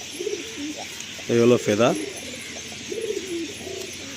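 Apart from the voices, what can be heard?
loft pigeon cooing while being handled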